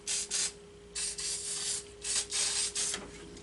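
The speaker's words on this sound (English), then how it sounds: "I'm just using a little bit of WD-40 here." WD-40 hisses in several short aerosol bursts, sprayed close up into an engine cylinder on a vintage Scout, with a faint steady hum between the bursts.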